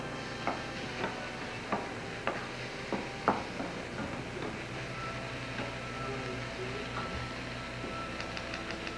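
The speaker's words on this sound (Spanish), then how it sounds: "Y seguimos sofriendo" Food sautéing in a pan on the stove for a spinach strata, a quiet steady sizzle broken by a series of distinct scraping and stirring knocks from a utensil.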